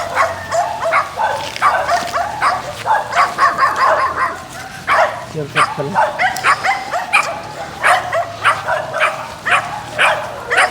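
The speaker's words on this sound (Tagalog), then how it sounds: "Yan ang mga aso, nagsilabasan na." Several dogs bark repeatedly in an excited, overlapping chorus on a mountain, some yipping, fairly close, with a person speaking briefly among the barks.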